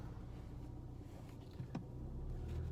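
A car driving along with a steady low road rumble and engine hum from inside the cabin, a brief click partway through, no talk.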